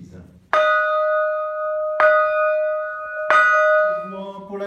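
Church bells rung at a blessing ceremony sound three loud, clear strikes about a second and a half apart, each leaving a long ringing tone that hangs between hits.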